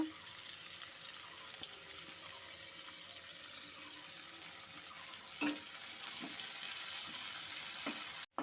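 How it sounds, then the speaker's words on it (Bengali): Chopped onion fries in oil with a steady, close hiss and a few sharp clinks and scrapes, growing slightly louder toward the end. "পেঁয়াজটা দিয়ে এখন পেঁয়াজটাকে একটু ভাজা ভাজা করে নেব।"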